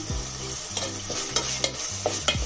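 Chopped tomatoes and mint frying in a pan over a medium flame, with a steady soft sizzle broken by repeated scraping stirs, and low droning tones running underneath.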